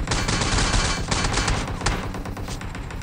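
Dense, loud bursts of automatic gunfire in the mobile battle royale game PUBG Mobile, rapid continuous rattling shots filling the whole moment with no talk over them.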